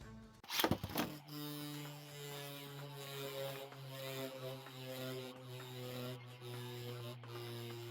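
A Beyblade Hover Wyvern spinning top launched with a sharp ripping burst, then a steady metallic whirring hum as it spins on the stadium floor, with faint scraping wobbles.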